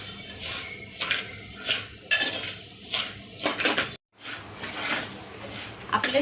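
Rice is dry-roasted for chakli bhajani in a pan on a medium gas flame while a spatula stirs it, giving repeated close scraping and clattering strokes, with one brief pause before the stirring resumes.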